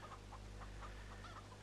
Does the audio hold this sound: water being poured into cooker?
no